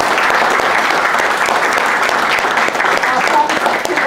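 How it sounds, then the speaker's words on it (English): A crowd at a book launch applauds Professor Tejendra Pherali, with dense, sustained clapping that holds steady and loud throughout, close and continuous. "So I'd like you to join me in giving a big round of applause to Tejendra."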